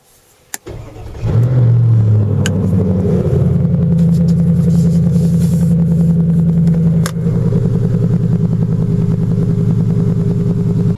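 A car engine cranks with a short click and catches, then settles into a loud, steady close idle with an even low throbbing rumble that runs to the end, briefly dipping once partway through.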